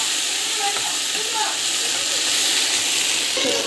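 Ingredients sautéing in a frying pan for a simple home recipe, giving a steady, continuous hiss and sizzle that stays at an even level throughout, with a few faint clinks near the end.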